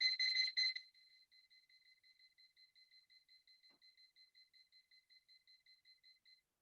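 A workout timer alarm goes off in a loud, piercing burst of rapid beeps, then keeps pulsing in a steady, quieter run of repeated electronic beeps alone.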